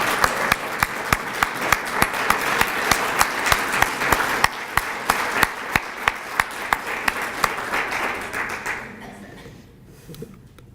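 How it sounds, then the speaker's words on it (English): Sustained audience applause welcoming new Sigma Theta Tau International nursing honor society members, a dense crowd clapping steadily with sharp individual claps on top, fading out near the end. "with our applause"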